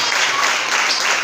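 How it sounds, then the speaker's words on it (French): Church congregation applauding during a Sunday service, a dense, steady burst of clapping throughout with no gaps. "On va faire un gros applaudissement pour ça"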